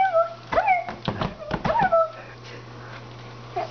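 A young white, furry puppy makes a few high whimpers and yelping cries close by, clustered in the first two seconds, with soft growl-like sounds, a steady hum and quieter moments after.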